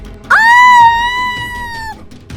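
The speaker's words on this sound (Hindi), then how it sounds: "सौम्या की जोरदार चीख निकल गई" A loud, sustained scream with a sharp onset holds a steady pitch for about a second and a half before cutting off. It is used as a sound effect in a Hindi horror story, with low background murmur behind it.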